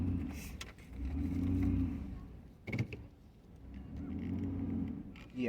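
A car stuck in sand on the Oregon coast near Depoe Bay revs in two long surges separated by a pause, with a mechanical clunk and creak in between, moderately close with a faint voice.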